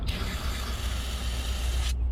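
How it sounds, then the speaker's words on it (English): A continuous aerosol degreaser spray hisses steadily for about two seconds at close range onto a 1984 Dodge truck engine, then cuts off abruptly. "I'm gonna take some degreaser here. Spray these numbers off on the top."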